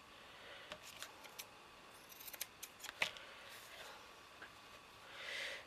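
Scissors make a scattering of quiet, sharp snips while trimming a paper flower, the clicks close by but faint, with no one talking.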